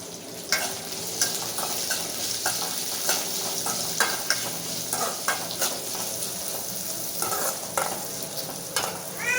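Onions sautéing in a pan as a utensil stirs them, a dense continuous sizzle with frequent quick scraping clicks and knocks against the pan, close by and steady throughout.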